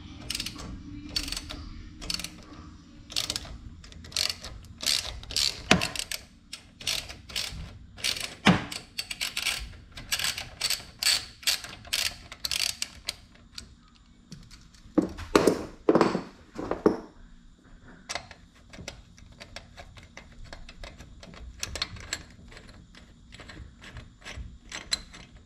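Ratchet wrench backing out 10 mm bolts from a cover on a Mini Jeep engine, rapid clicking pawl runs in repeated bursts with short pauses and a few clunks, close by and moderately quiet.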